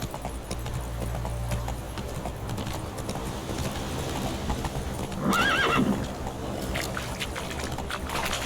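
Roach the horse in The Witcher 3 gallops with steady, rapid clip-clop hoofbeats under game ambience and low rumbling, and a short neigh rises midway before the hoofbeats continue.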